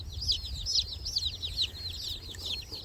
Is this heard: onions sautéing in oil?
no